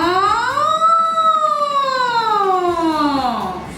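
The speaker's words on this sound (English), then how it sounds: "a siren like" An emergency vehicle siren gives one loud, close wail that sweeps upward, holds high, then slides back down.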